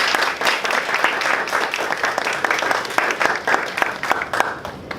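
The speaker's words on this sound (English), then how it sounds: "A round of applause to my exco who is sitting at the back." A club meeting audience applauds the executive committee seated at the back, with lively, uneven clapping and distinct individual claps that slowly taper toward the end.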